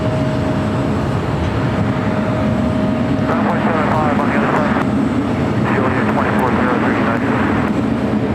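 A Boeing 777 jet airliner roars steadily at LAX airport, a loud broad engine rumble that fills the whole stretch, with a faint higher whine and some rising swells partway through.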